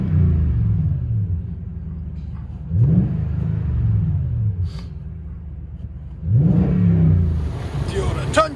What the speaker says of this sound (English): Toyota Tundra with Dirty Deeds exhaust